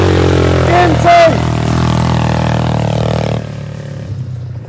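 A quad ATV engine revving hard on the throttle, a loud sustained close drone with a brief rising whine early on, then easing off and fading to a lower idle toward the end.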